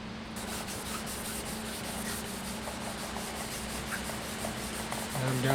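Fine-grit sandpaper rubbing over a wooden stave drum shell, a steady close hiss of abrasion running without pause at an even level.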